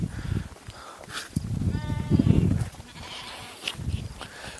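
Lambs bleat in short, wavering cries close by, with wind and outdoor rustle around them.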